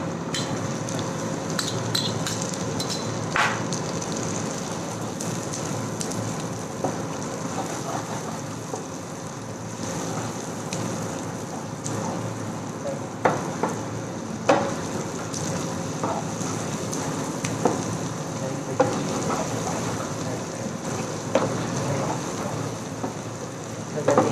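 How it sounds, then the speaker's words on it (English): Chopped onion frying in a pan over a low flame for a herbed coconut rice and ratatouille dish, giving a steady rain-like hiss with scattered small crackles and pops throughout. "Now we are going to add some onion"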